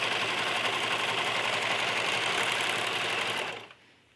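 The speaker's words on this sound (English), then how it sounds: "So I just use the serger to finish off those edges, give it a nice look, and prevent the flannel from fraying." A serger stitches steadily along flannel fabric edges while a doll's pajamas are hemmed, its fast, even whirring running loud and close for about three and a half seconds before it stops abruptly.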